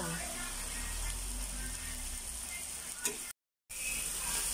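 Shrimp fry in a pan with green onion as it nears doneness, giving a steady, fairly loud sizzle throughout that drops out for a brief moment near the end.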